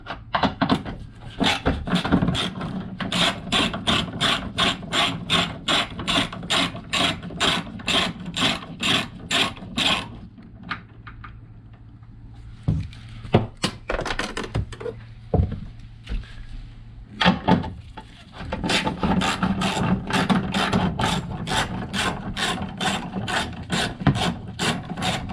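Ratcheting wrench clicking steadily while screw nuts are removed from the rear spoiler of a Lexus NX 300h, rapid close-up clicks in long runs, pausing midway for quieter handling before resuming.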